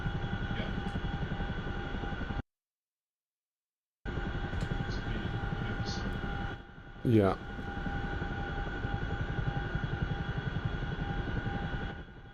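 A helicopter in the flight game DCS World makes a steady rotor and engine drone with a rapid low thump. The drone cuts out briefly, and a short voice is heard over it.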